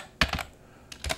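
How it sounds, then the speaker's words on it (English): Keys on a computer keyboard are tapped in two quick, close clusters of clicks, heard alone over a faint room hiss. "I can just type something in"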